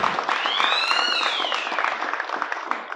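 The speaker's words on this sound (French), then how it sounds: "Tonnerre d'applaudissements pour Monsieur Eric Favre, s'il vous plaît." Crowd at a street-fight weigh-in and face-off applauds in a dense, clattering burst, with a rising and falling whistle arcing over the clapping early on.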